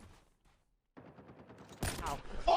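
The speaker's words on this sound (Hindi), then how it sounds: "अब देखो मैं कैसे इसको स्नाइपर से मारता हूँ।" Sniper rifle shots in COD Mobile, a rapid rattle of game gunfire followed by a louder burst of shots and effects near the end.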